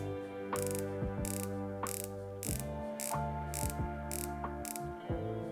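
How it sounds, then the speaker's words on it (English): Tudor Black Bay Monochrome watch bezel rotated by hand, giving a steady series of crisp, close metallic ratchet clicks at an even rhythm with no talk. "perfectly working bezel, nice clicking, nice sound feature"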